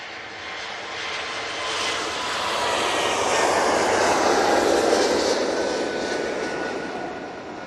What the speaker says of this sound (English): that Air France A380 there, as it departs to Paris Charles de Gaulle Airport